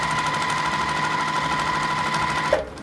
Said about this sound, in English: So we're going to start sewing that.